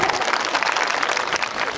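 Crowd at a political march rally applauding, a dense, steady wash of many hands clapping that continues without pause throughout.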